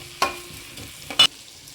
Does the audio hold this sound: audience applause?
no